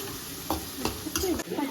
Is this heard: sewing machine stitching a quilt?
no